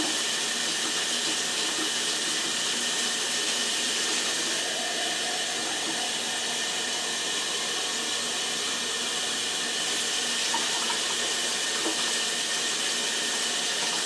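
Water poured steadily into a pressure cooker holding brown rice and pigeon peas, a continuous hissing splash of moderate loudness with no talk over it.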